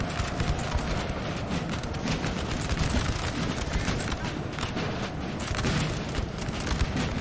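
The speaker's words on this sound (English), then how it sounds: "Got this brave Saxon artillery piece. Look at this point blank fire too." Saxon artillery firing point blank in Napoleon Total War, a dense, continuous roar of battle with massed musket and cannon fire, rumbling steadily without break and no talk.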